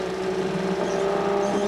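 Production sports cars under 1500 cc racing in 1954 at Iowa City, a steady droning engine tone with a sustained hum, heard alone with no talk.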